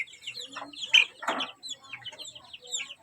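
A mother hen and her chicks on a backyard poultry setup, soft repeated clucks from the hen mixed with high, thin peeping from the chicks, close and fairly quiet, with no talk.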